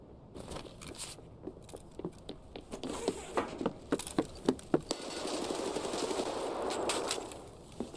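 Gunfire in the shooter game Tarkov: a run of sharp individual shots, then a dense rapid burst of automatic fire, close and loud with no talking.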